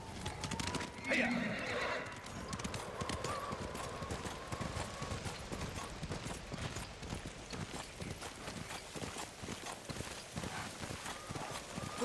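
A horse in a snowy video game scene gallops with a steady, rapid clip-clop of hooves and gives a sharp whinny near the start, close and loud, with spoken dialogue over the hoofbeats.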